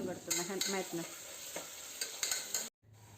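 Onion with ginger, garlic and green chillies frying for an egg biryani masala, a faint bright sizzle broken by repeated scraping stirs and clinks of a spoon, ending in a brief cut to near silence.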